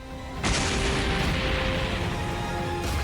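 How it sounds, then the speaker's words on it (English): A loud, sustained explosion from an energy blast in a Dragon Ball fight bursts in abruptly after a brief quieter moment, then holds as a dense roaring rumble for a few seconds. "The explosion isn't lost on Dende"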